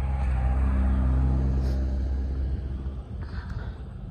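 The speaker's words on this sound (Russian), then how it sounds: "Маршрутка поехала какая-то" A marshrutka minibus pulls away from a snowy bus stop, its engine a steady low rumble that holds close for a few seconds, then thins and eases off as the vehicle moves away.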